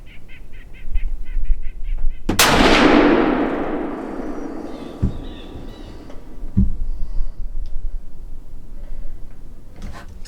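A single loud, sharp rifle shot from a Savage Axis 110 Hunter XP chambered in 350 Legend cracks at close range and rings out in a long, fading echo, followed by a couple of faint knocks.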